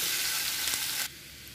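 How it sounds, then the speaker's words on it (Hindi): Boiled potatoes drop into hot oil in a pan, giving a loud, steady frying sizzle that cuts off abruptly to a quieter hiss about a second in. "हम इसमें उबले हुए आलू डाल देंगे।"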